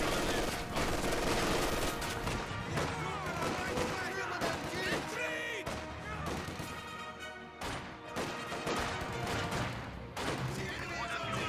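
MG42 machine gun bursts amid chaotic battlefield combat in Company of Heroes 2, with rapid fire, crashes and explosions mixed under a voice talking throughout.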